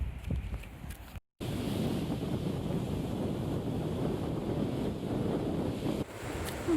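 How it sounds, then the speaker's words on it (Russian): Strong wind buffeting a microphone outdoors on a blustery coastal day, a loud continuous rumbling roar with one brief dropout of silence. "сильно ветрено сегодня"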